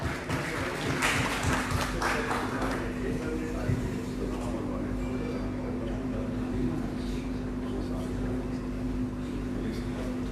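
Applause from a crowd at a PML-N political gathering as Sardar Ayaz Sadiq is welcomed, a steady dense wash of clapping that holds for about ten seconds over a low electrical hum, with some voices mixed in.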